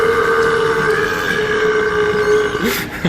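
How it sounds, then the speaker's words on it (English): A man lets out one long, loud, drawn-out burp from swallowed air, held at a steady growling pitch close up, ending in a short gulp. "like that guy burping"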